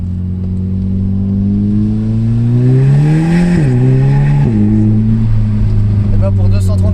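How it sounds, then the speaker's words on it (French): An Audi quattro with a stage 1 tune, rated at 230 horsepower, roars as it accelerates, its intake and engine tone climbing steadily through a gear and continuing to rise after a brief shift, loud and close from inside the car. "l'admission a fait un bruit énorme comme tu peux."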